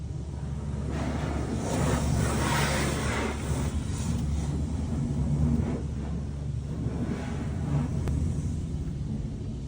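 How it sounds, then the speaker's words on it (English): Automatic car wash cleaning a car, heard from inside the vehicle as a steady loud rush of spraying water and rumbling machinery with swelling washes of noise, no talk. "Does anyone else find car washes so satisfying?"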